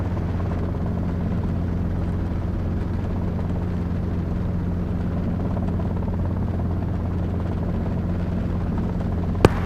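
A Robinson R22 helicopter flies a steep approach on short final to runway 28 at Princeton during a flight instructor training flight. From inside the cabin it is a constant, loud rotor-and-engine drone, unbroken for the whole stretch and with no talking.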